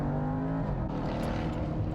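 Jaguar XE SV Project 8 with a 5-litre supercharged V8 and all-wheel drive lapping the Portimao circuit, a deep, continuous engine drone heard from inside the car, loud and steady with low rumbling throughout.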